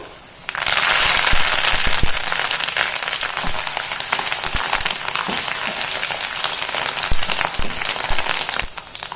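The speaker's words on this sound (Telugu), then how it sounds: "ఇదిగోండి ఇవన్నీ బాగా ఫ్రై అయ్యాయి చూసారా." Dried red chillies, turmeric and curry leaves fry in hot oil for a tamarind rice paste, giving a loud, dense crackling sizzle that starts abruptly and keeps spattering steadily, with no talking.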